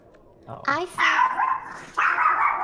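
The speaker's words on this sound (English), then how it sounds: "Sorry, that was my dog." A dog barks a few times at close range indoors, the sharp yips and woofs followed by a brief whimpering tone, while a person speaks briefly.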